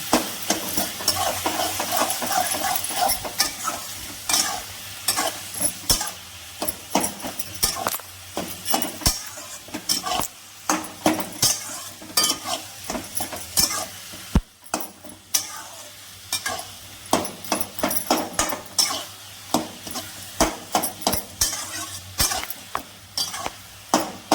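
Taro leaves stir-fried with garlic paste and cumin powder in a pan, steady sizzling broken by frequent rhythmic scraping and clinking of a metal spatula against the pan, close and busy, with no speech.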